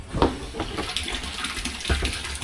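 Water runs steadily into a drum on a rooftop, giving a continuous rushing, splashing wash with a few small knocks and no talking.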